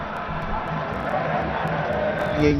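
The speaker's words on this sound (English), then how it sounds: "Cheering, enjoying the cricket." Crowd at an India versus Zimbabwe T20 cricket match cheering in a steady, dense roar that swells slightly near the end, heard under commentary.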